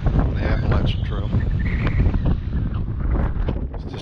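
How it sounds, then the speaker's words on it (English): Strong wind on a mountain ridge buffets the microphone in a steady, loud roar, with broadband rumble and gusts throughout, no other sound standing out. "Too windy to stay up here very long"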